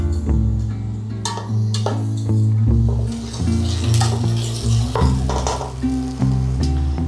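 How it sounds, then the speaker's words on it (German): Diced onion sautés in a pan, a steady close sizzle broken by the scrape and clatter of stirring throughout. "Eine gewürfelte Zwiebel. Und das lasse ich jetzt hier vor sich hin dünsten für 5 Minuten."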